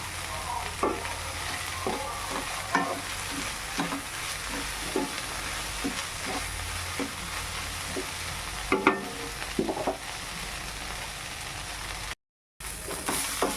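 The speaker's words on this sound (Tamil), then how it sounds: "இது நல்லா வதங்கி வச்சு இப்போது ஒரு முக்கால் பத பதத்துக்கு வதங்கினா போதும்" Curry leaves sauté in a pan with a little coriander and tamarind for a chutney, with a steady low sizzle under regular spatula taps and scrapes. Near the end there is a brief gap of silence.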